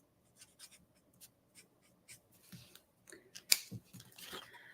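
A white acrylic marker writes over dry acrylic paint, producing soft, close scratchy strokes and small taps in short irregular bursts, quiet overall, with a sharper click near the end.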